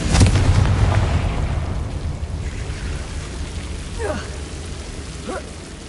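Confringo fire spell blast in the video game Hogwarts Legacy: a loud booming burst at the start that decays into a rumbling, crackling roar, with a few faint whooshing sweeps afterward.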